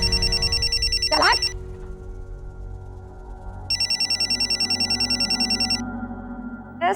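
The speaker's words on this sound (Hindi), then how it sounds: "सोन चिड़ैया का फोन है।" A telephone rings with a trilling electronic bell in two long bursts separated by a quiet gap, loud and close, with a brief voice-like sweep between them and another beginning right at the end.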